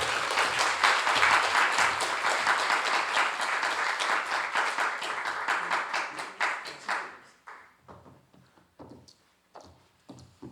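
A church congregation gives a loud, sustained round of applause to welcome a pastor at a Sunday afternoon service, with dense clapping that thins into scattered claps and fades out near the end.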